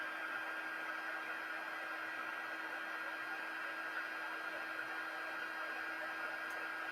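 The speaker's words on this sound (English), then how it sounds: "The heat tool has to heat up first, and then the embossing happens quite rapidly." An embossing heat tool blows hot air in a steady, even whoosh for the whole stretch, alone at a constant level with no talking.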